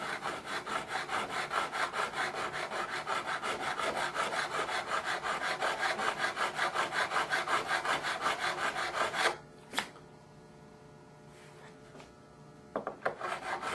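A metal file recrowns guitar frets in steady back-and-forth rasping strokes for about nine seconds, close and even. It then stops, leaving a quiet room with a few light taps and clicks.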